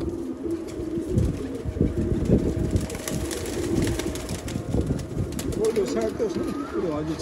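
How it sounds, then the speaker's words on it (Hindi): Pigeons kept by a fancier in Haripur, Hazara, cooing in soft repeated throaty rolls close by, with someone talking over them and some background outdoor noise. "मेरी पसंद का कबूतर है ये भी।"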